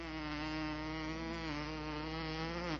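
A voice imitates a bumblebee on an old radio quiz show, holding a steady, close, droning buzz for nearly three seconds without a break.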